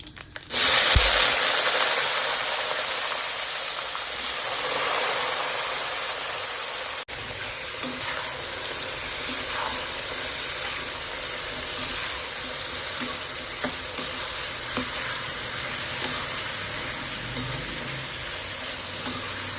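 Sliced eggplant hits a pan of frying dal for vangi bath and sets off a loud, continuous hissing sizzle that settles into a steady frying crackle with small pops.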